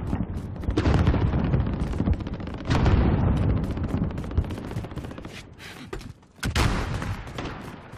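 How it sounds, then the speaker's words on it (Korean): Loud explosions and rattling gunfire from a precision airstrike in Call of Duty: Modern Warfare, heavy booming blasts and bursts of fire in waves, with a brief lull before another sharp detonation. "정밀 공습이다"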